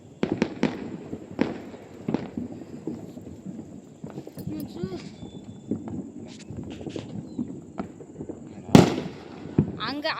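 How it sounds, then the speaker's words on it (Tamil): Scattered sharp firecracker bangs pop at irregular intervals on a terrace during Diwali, one louder blast near the end, with people talking between the explosions. "நம்ம வந்து டெரஸில் வந்து வெடி வைக்க போகிறோம்"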